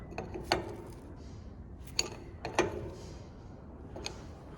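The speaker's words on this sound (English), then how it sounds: "now since I got the wrench here in my hand, I go ahead and check that connection right there on the bottom" A wrench works on a hydraulic fitting on a John Deere 4840 tractor, giving a few sharp metallic ratchet clicks spaced a second or more apart over faint background noise.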